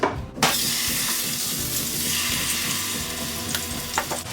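Steaks sizzling in avocado oil in a hot pot on the stove, a loud, steady broadband crackle and hiss that holds throughout after a sharp start, with a few brief clinks near the end.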